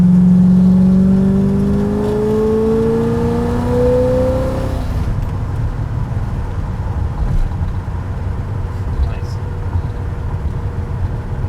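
A classic car with a Turbo 350 3-speed transmission runs loud and close, its engine note climbing in pitch for several seconds and then settling into a steady, rough rumble.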